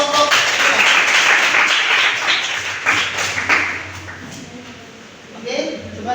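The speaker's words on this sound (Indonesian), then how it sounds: "Ayo, tepuk tangan dulu kelompok 3." A classroom of students in a German language lesson applauds a student group, a loud burst of clapping over the first few seconds that fades as voices take over.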